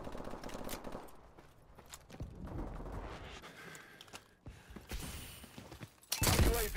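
Rapid automatic gunfire from a Call of Duty: Advanced Warfare team deathmatch match on the Comeback map, dense bursts and clattering shots running throughout, with a louder, sharper blast near the end.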